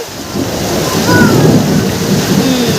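Heavy monsoon rain pours down with rolling thunder, a loud continuous roar of downpour and low rumbling, no voices.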